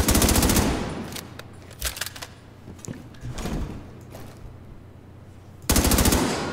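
Rapid automatic weapon fire in The Division 2: Warlords of New York comes in loud bursts at the start and end, with scattered single shots and distant fire between them.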